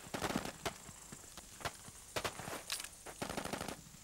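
Rapid bursts of gunfire at a military shooting range crack out in quick irregular clusters, sharp distinct shots with short pauses between volleys, fairly distant.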